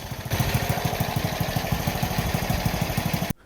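A Honda Cub C200 motorcycle engine, freshly serviced but prone to stalling at idle, runs with a steady, rapid low putter for a few seconds at close range, then cuts off abruptly.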